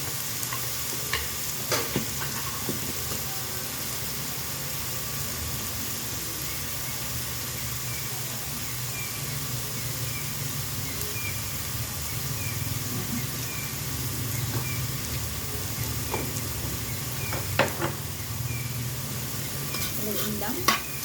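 Fried rice with mixed vegetables is stirred in a pan over a steady, broad sizzle, with scattered scraping clicks of the utensil against the pan and no talking.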